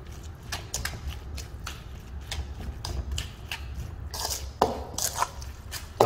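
Sweet rice for yakbap being mixed by hand, with a steady run of sticky, squishy taps and rustles up close, getting busier and louder toward the end.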